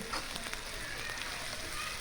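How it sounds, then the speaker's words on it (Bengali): Green chillies and garlic fry in a pan with a soft, continuous sizzle and faint scattered crackles, fairly quiet and close, with no talking. "এরপরে কাঁচামরিচ দিতে হবে এগুলি একটু ভাজা ভাজা করে নেব আমরা"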